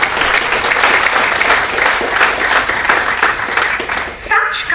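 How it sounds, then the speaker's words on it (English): Audience at a college prize distribution function applauds loudly and steadily for several seconds, then it fades as a voice begins to speak. "This needs a round of applause."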